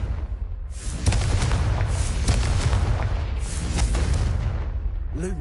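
A Confringo fire spell bursts in the Hogwarts Legacy video game, a loud sustained rumbling blast with repeated booming hits over about five seconds, dense and continuous with a brief whoosh at the end.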